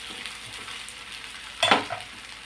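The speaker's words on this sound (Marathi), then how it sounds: "आता तवा गरम झाला की याला फार वेळ नाही लागत भाजायला" Bottle gourd thalipeeth roasts on a hot iron griddle with a soft, steady hiss, broken by one brief, sharp burst of sizzling near the end.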